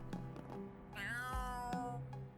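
A cartoon cat character in the video game Trails Through Daybreak meows loudly and close up, one long rising-and-falling meow with shorter mews around it, with no talk.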